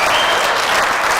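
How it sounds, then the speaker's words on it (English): An audience at a network marketing seminar bursts into dense, loud, continuous applause, a steady wash of clapping with no gaps for the whole moment. "Huge reaction from the crowd."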